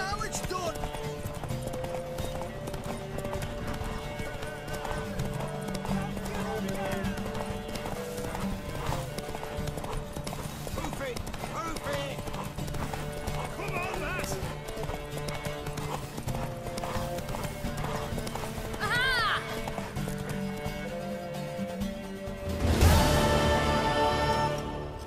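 Horse hooves clip-clopping at a steady gallop in the Witcher 3: Wild Hunt game, with a sharp whinny near the end, under continuous game music and character voices talking throughout.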